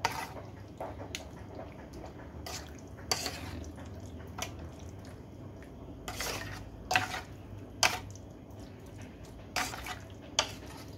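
A chicken liver dish is stirred in a metal pan with a ladle, sending out repeated sharp clinks and scrapes at irregular intervals over a low background.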